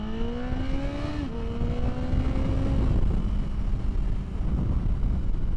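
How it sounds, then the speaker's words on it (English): A car driving at speed on the road, heard as a steady engine drone with a tone that climbs, drops between gears, and climbs again under continuous road and wind rumble. "you don't get the sound of the engine and going down the road in the car"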